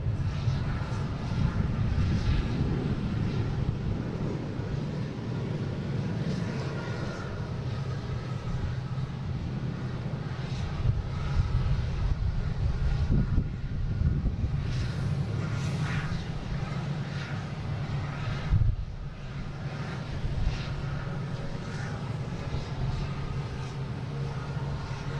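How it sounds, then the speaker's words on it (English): A Delta airliner takes off at Boston Logan airport bound for Detroit, a steady, loud low roar of jet engines that holds through the whole stretch with slight swells and no talk over it. "And we got Delta here taking off,"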